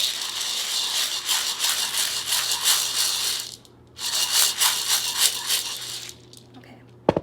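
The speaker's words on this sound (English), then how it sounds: "Shake the box or pitcher." Beans shaken in a box or pitcher make a dense, loud, continuous rattle in two long bursts separated by a short pause, ending with a couple of sharp knocks.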